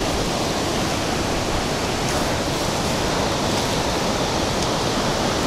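Rushing water at Marmore Falls, the Roman-made waterfalls in Umbria, Italy, fills the air as a loud, unbroken roar with no gaps and no voices.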